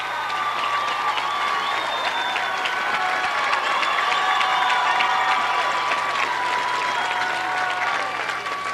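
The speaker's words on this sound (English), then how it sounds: "getting a round of applause." A crowd applauds and cheers steadily at a Ceredo-Kenova high school championship football game, a loud, dense wash of clapping from the stands lasting throughout with no break.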